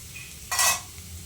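Bottle gourd halva frying and being stirred in ghee in a pan, a brief loud scrape-and-sizzle burst mid-way over a quiet low kitchen background, close by with no talking.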